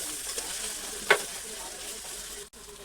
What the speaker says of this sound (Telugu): కొంచెం అల్లం పేస్ట్ వేసుకొని ఫస్ట్ కొంచెం అల్లం అనేది పచ్చివాసన వేదాకా వేపుకోవాలి.